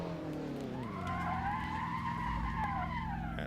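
Tires skid and squeal in a driving video game as a car slides on the handbrake on New York City streets, a long rising and falling screech over a steady engine drone.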